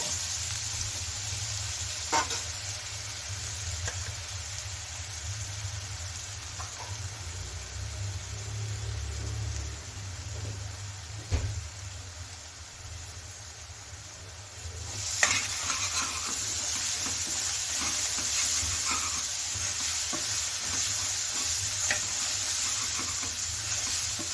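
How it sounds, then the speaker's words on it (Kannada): Ginger garlic paste sizzles and fries in a pan for an Andhra-style egg gravy, a continuous close hiss with occasional stirring scrapes and clicks, and no talking. "ಸೇರಿಸ್ಕೊಂಡು ಇದರ ಹಸಿ ವಾಸನೆ ಹೋಗೋವರೆಗೂ ಹುರ್ಕೋಬೇಕಾಗತ್ತೆ"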